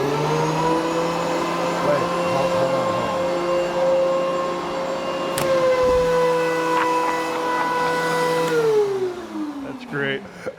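A thickness planer with a built-in blower runs with a loud, steady machine whine and strong motor hum throughout, then its pitch drops near the end as it winds down.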